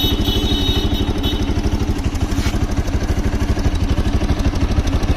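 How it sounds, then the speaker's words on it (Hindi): A Bajaj Pulsar RS 200 motorcycle engine with an abnormal noise idles close and loud, a rapid, even mechanical clatter ticking over a low throbbing beat throughout, with no talking. "जो इंजन से हमारा आवाज़ आ रहा है"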